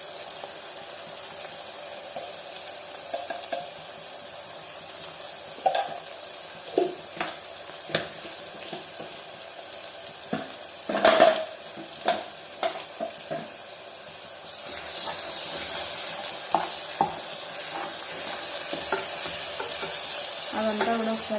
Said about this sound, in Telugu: అదంతా కూడా ఒకసారి కలిపేసుకోవాలి. దీంట్లోనే పసుపు యాడ్ చేసుకోవాలి.